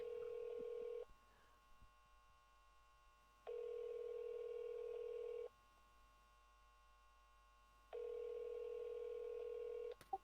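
Telephone ringback tone on a call in a diner that goes unanswered: three long steady buzzing tones separated by gaps of silence, clear and alone with faint background hum and no talking.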